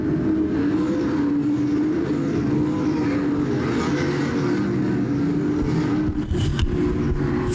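Sprint cars of the Lane Automotive MTS series race at Crystal Motor Speedway, with a loud, continuous engine roar that rises and falls as the pack passes.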